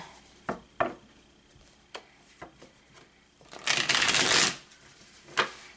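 A deck of tarot cards is shuffled: several sharp separate snaps and taps, then a loud riffle lasting about a second, followed by one more snap, all close.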